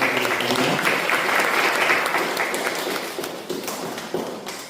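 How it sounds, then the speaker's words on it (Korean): Church congregation applauding during a Sunday worship service, a dense steady wash of clapping that fades gradually toward the end. "우리 박수로 감사드리겠습니다."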